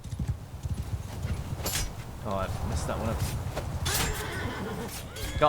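Cavalry horses with Banner Knights gallop into a Bannerlord battle: dense, rapid hoofbeats pound close by, with whinnies rising over the charge while someone speaks briefly.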